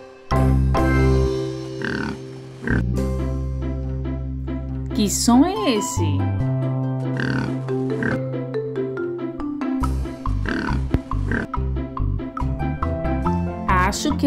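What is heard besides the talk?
pig oinking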